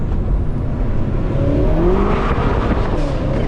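A stage 2 tuned 700 hp BMW M5 F90 engine at full effort during a drive, a continuous close, loud roar with slight pitch rises through the run.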